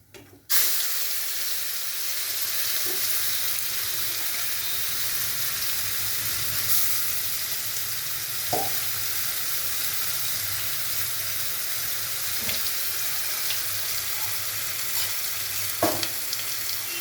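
Spices hitting hot oil for a cauliflower and potato rezala, starting with a sudden loud hiss that settles into a long, steady sizzle, with a few faint clinks of stirring scattered through.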